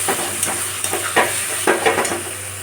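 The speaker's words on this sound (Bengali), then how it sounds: "দিয়ে মশলাটা ভালো করে আমি কষিয়ে নেব" A paste of ground dried chilli, tomato, ginger and garlic sautés in a pan for echor chingri, a close, steady sizzle broken by repeated scraping strokes of a spoon.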